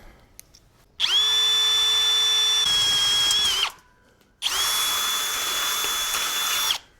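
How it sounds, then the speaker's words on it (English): Two long bursts of a high-pitched whining power drill boring through metal, close and loud, with a brief pause between them and the pitch dipping under load. "we've run that drill through both sides"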